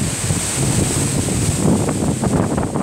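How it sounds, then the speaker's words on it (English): Gusty wind in Elsdon, Northumberland buffets the microphone in a continuous rushing roar, rising and falling in strength, with no one speaking. "It's getting windy again"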